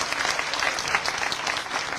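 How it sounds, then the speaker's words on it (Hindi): A crowd at an election rally in Hansi, Haryana claps loudly and continuously, dense steady applause filling the air with no pauses. "सबसे ज्यादा जोरदार ताली हो जाए।"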